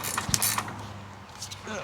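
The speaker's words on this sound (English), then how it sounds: "Now we can get our ratchet on there." Close, fairly quiet ratchet clicks as a 12mm bolt is tightened on a KTuned shifter being fitted to an Acura Integra or 99-00 Civic Si, with a few brief mechanical ticks.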